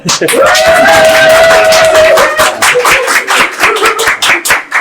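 Audience clapping and cheering greet a physical education teacher at a Waldorf school event, loud and close for several seconds with voices shouting over the claps before it thins out.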